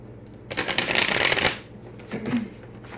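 Tarot cards riffle in a dense, close shuffle for about a second, followed by a shorter, softer second shuffle.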